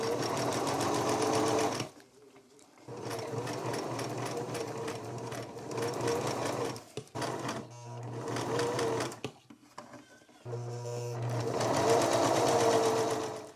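A sewing machine stitches satin bias tape onto a scrap of fabric, running in a fast, steady whir that stops briefly several times and then starts again.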